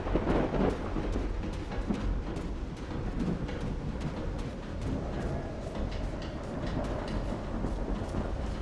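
Deep rumbling thunder with a rain-like wash in the video game Call of the Sea, a heavy, sustained low roar that stays loud throughout, with no voices.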